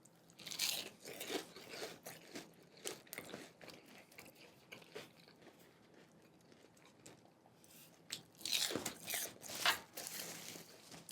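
Crunchy whole-onion rings are bitten and chewed up close, with soft crisp crunches coming in bursts early and again near the end, quieter chewing in between, faint overall and without speech.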